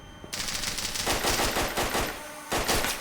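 Dense bursts of rapid automatic gunfire from the Roblox game The Lost Front, continuous and loud, with brief gaps between volleys.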